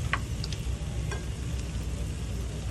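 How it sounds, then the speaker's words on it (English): Onion sautéing in a pan for a quick vegan travel meal, a close steady sizzle with a couple of brief utensil clicks and scrapes, fairly loud and alone with no voices. "Voila, onion. Let it heat up and saute for a while"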